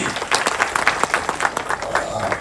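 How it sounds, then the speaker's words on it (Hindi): Audience applause breaks out at a business leadership panel event, a brief burst of many hands clapping with lively crowd noise mixed in, fairly close and loud for about two seconds. "जोरदार ताली"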